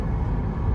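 A worn rear wheel bearing in a 2009 Lexus GS350 AWD hums while driving, a low steady droning rumble with road noise inside the cabin, brief and unbroken.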